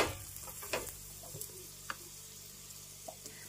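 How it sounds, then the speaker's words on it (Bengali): Cauliflower paratha frying in white oil in a pan, turned and pressed to brown: a steady low sizzle close by, broken by a few small ticks and scrapes, with no voices. "পরোটাটা খুব সুন্দরভাবে গোল্ডেন ব্রাউন করে ভাজতে হবে আমাদের আস্তে আস্তে"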